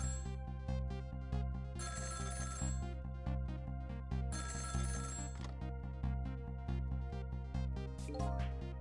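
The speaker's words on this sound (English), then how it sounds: "About 2 hours before dawn, the phone rang." Telephone bell ringing in the video game Ghost Trick: Phantom Detective, a bright repeated electronic ring in regular bursts with short gaps between them, steady and clear with no voices.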